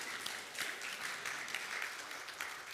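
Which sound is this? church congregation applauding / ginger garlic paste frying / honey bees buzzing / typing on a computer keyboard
church congregation applauding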